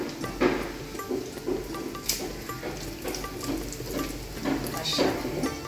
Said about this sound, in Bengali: আমি যেটা এখন করবো সেটা হচ্ছে তেজপাতা দিয়ে দিচ্ছি।